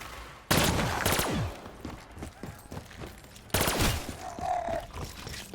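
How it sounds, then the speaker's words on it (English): M16 rifle gunfire in Black Ops 3 Zombies on the Kino Der Toten map: two loud bursts of rapid shots, one at the start and another about three seconds later, with game effects and echoes trailing between. "let's see the power of this M16"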